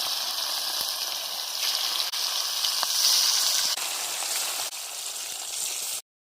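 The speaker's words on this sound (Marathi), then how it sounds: "आधी तेल वतून घेते मासे तळून घेते" Fish fries in hot oil in a kadhai, a steady loud hiss and crackle of sizzling with occasional pops, continuous and close until it cuts off abruptly.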